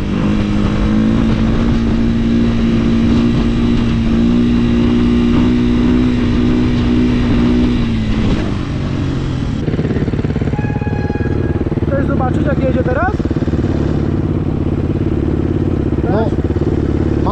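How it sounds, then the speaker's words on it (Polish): KTM 350 motorcycles ride together with a loud, continuous engine drone that holds steady, then shifts and dips in pitch as they change speed, heard close up throughout. "A teraz synchronizowana jazda z Tomkiem."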